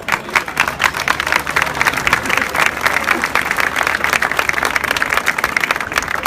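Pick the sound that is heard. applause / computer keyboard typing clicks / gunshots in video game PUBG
applause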